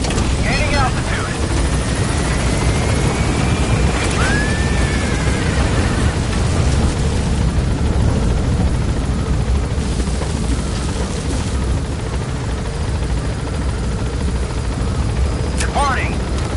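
A helicopter in Metal Gear Solid V lifts off from a landing zone and climbs, its rotor and engine roar loud, close and unbroken throughout, with brief radio-style voices over it.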